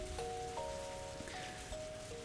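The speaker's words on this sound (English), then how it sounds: "Another silence settled, with rain being the only audible sound." Faint, steady rain patters on surfaces in the Higurashi When They Cry visual novel game, a soft continuous hiss with a few thin chime-like tones drifting over it.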